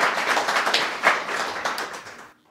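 Audience at a live event in Brocach clapping and applauding, dense and steady, close and fairly loud, fading out near the end.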